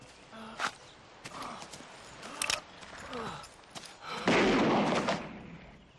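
Horses' hooves clip-clopping on a cattle drive, with scattered thuds and knocks and a louder burst of rustling movement near the end.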